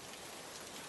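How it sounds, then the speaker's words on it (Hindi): Steady rain falls in an even, soft hiss with no breaks, faint and continuous, and no voices are heard. "आकाश से बारिश की आवाज धीमी होने लगती है।"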